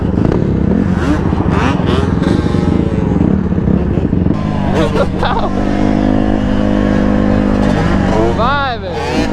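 A two-stroke Yamaha Banshee quad ATV engine revs loud and close, its raspy note rising and falling in repeated bursts at an outdoor riding lot, with people talking over it.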